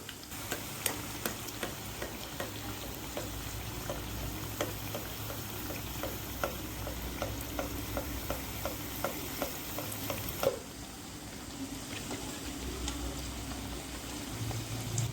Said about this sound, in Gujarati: અને ધીમા ગેસે એને તળી લેશું